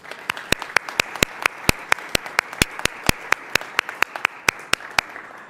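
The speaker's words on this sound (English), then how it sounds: "so let's give everyone a round of applause." Applause at a downtown civic conversation event comes through as sharp, evenly spaced claps, about three or four each second, sounding like a single close pair of hands keeping a steady beat rather than a full crowd.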